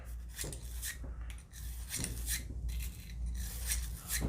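A bore brush is pushed back and forth through the barrel of a Ruger Max-9 pistol, making quiet, rhythmic rasping strokes that repeat several times up close.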